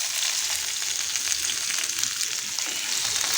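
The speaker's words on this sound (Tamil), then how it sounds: "வெங்காயம் நல்லா வதங்கணும்" Sliced onions sauté in oil in a pan for an idli and dosa chutney, producing a constant close crackling sizzle with faint stirring and no voices.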